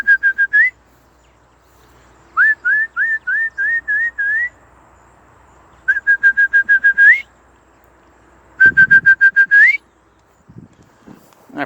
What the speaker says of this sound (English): And then I whistle for them.